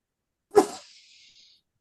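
A single sharp sneeze bursts out close by during a quiet group discussion, followed by a brief trailing breathy hiss before silence returns.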